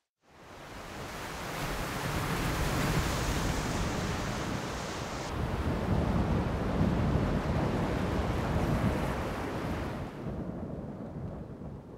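Stormy sea surf and gusting wind roar steadily around a small uninhabited island off Chuja, Jeju, where rough waves have halted boats. The loud, dense wash rises in a quick swell and fades near the end.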